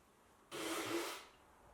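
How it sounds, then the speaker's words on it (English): One forceful nose blow after a neti pot saline rinse, a short breathy rush of air lasting under a second, close and fairly loud against a quiet background. "I'm just going to blow my nose here."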